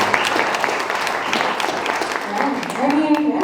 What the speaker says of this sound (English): please give a round of applause for all the steps to make that happen